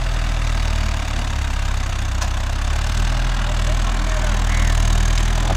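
A Mahindra Yuvo Tech Plus 585 DI 4WD tractor engine runs steadily with a loud, continuous low diesel rumble and throb, heard close with no talking.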